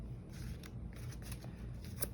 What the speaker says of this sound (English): I'll shuffle on camera